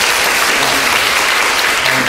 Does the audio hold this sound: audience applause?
yes